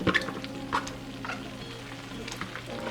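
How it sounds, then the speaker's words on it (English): Softened, drained stir-fry vegetables hit a hot pan and sizzle steadily, with a few clattering stirs near the start and a constant frying hiss throughout, heard close and without talk. "now I'm going to go ahead and add in these stir-fry vegetables"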